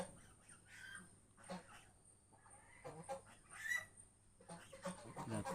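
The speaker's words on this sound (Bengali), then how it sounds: "এটা একটা মুরগি।" A chicken gives soft, intermittent clucks in a backyard poultry shed that also holds ducks and geese. The calls are faint and scattered across a quiet background.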